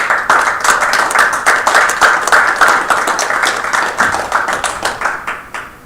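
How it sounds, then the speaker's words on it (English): Board members at a December board meeting give a round of applause, a small group's dense, uneven claps of moderate loudness that continue steadily and thin slightly toward the end. "Board, let's give them a round of applause."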